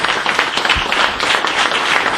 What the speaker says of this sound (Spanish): Pedro Godoy, para quien pido por empezar un aplauso